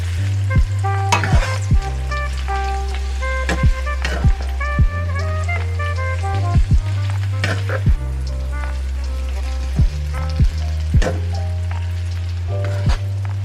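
Green beans fry with garlic in a hot pan, a steady close sizzle broken by repeated clattering tosses and stirring strokes, with no talking.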